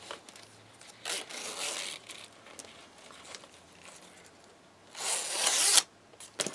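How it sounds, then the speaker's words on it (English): A two-pull craft-store zipper meant for a tote bag is handled up close, giving two short rasping zipping bursts separated by quieter rustling. "This is a zipper I got at Hobby Lobby."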